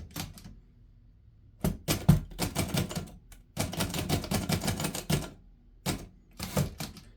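A 1937 Underwood Noiseless 77 portable typewriter is typed on in quick bursts of muted key strikes, with short pauses between runs of clacking, close and clear.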